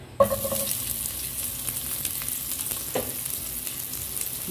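Onion and garlic hit hot oil with a sudden sizzle, then a steady crackling hiss as they sauté in a pan for pansit molo, close and continuous with a brief utensil clink partway through.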